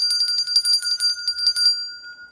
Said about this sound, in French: Tu as entendu la cloche, non?